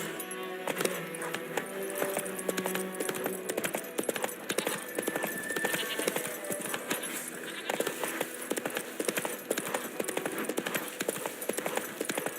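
Rhythmic clip-clop of a horse trotting in The Witcher 3, with the hooves steady and prominent throughout, under layered game ambience and music, with no speech.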